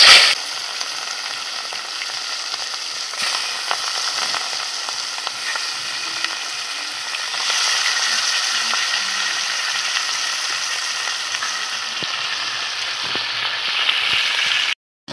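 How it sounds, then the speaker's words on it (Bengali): Rohu fish frying in mustard oil in a wok over a stove, producing a steady, close, loud sizzle with faint crackles throughout. No one speaks. "মাছগুলো এখন আমি ভেজে নিচ্ছি।"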